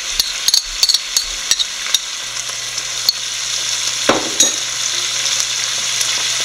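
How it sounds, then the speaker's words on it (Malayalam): Marinated chicken added to a pan with soy sauce and tomato sauce for Chinese chili chicken, a loud close sizzle broken by sharp clinks and scrapes of a spoon, then a steady hiss of frying, with no talk. "നമ്മുടെ ചിക്കനും കൂടി ഇട്ട് കൊടുക്കാം. മാറിനേറ്റ് ചെയ്ത് വെച്ചിരുന്ന ചിക്കൻ എല്ലാം നല്ലപോലെ ഒന്ന് കൂട്ടി യോജിപ്പിക്കുക."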